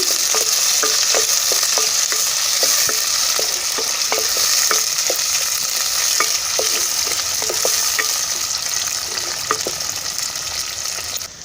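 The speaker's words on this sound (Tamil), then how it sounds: "வரமிளகாய் ஆட் பண்ணிடுவேன் வெங்காயம் நல்லா பொன்னீர் ஆகிற வரைக்கும் வறுத்துக்கோங்க" Onions and dried red chillies fry in oil for a cowpea and bottle gourd sambar, a loud continuous sizzle punctuated by a regular series of sharp spatula taps and scrapes against the pan.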